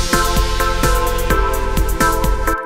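Crash cymbal effect sample in a pop/EDM song production, heard as a loud, dense music passage with repeated bright crashes and punchy hits every half second, cutting off abruptly near the end.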